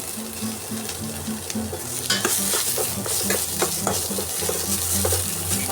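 Ginger and onion fry in hot oil in a pan while being stirred, a loud continuous sizzle broken by repeated scraping and clacking strokes of a spoon against the pan, growing busier midway, with no talking.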